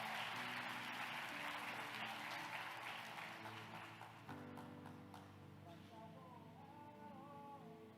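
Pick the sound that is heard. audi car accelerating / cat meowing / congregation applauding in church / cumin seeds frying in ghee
congregation applauding in church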